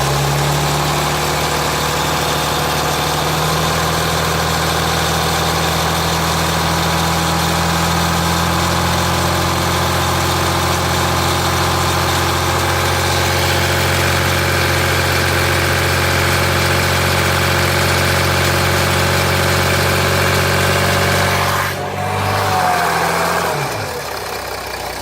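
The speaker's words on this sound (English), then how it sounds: "Rattle is still there. Been idling now about 5 minutes, just starting the temperature gauge through." A 2007 Jeep Grand Cherokee 3.0 CRD diesel idles steadily with a rattle, a loud continuous close engine hum and vibration that dips and shifts near the end.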